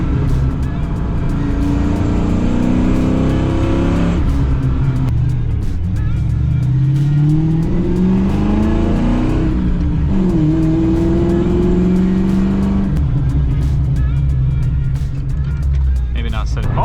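A 1990 Ford Fox Body car's engine revs and accelerates from inside the cabin, rising and falling through gears loudly and continuously, with people talking over it.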